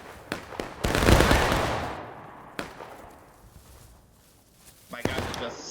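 Musket shots from the game Holdfast crack out as sharp scattered reports, one louder burst early on and a few distant pops after it, over a quiet background.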